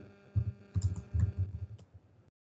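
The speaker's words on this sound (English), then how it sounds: "You can see I'm just typing @ in the first part of your name" Nearby keys clatter in short bursts on a computer keyboard while typing at a desk, rapid clicks in two or three clusters that stop abruptly, with no voices over them.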